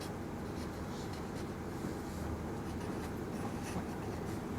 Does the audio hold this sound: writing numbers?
yes